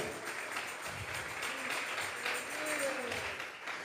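Congregation at a Sunday church service applauding, a steady wash of many hands clapping heard faintly and at a distance, with a voice briefly rising over it.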